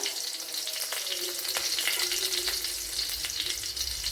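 Curry leaves go into hot oil with roasting dry shrimp and green chilies, setting off a bright, crackling sizzle with sharp spits and pops, the frying steady and close with faint stirring scrapes.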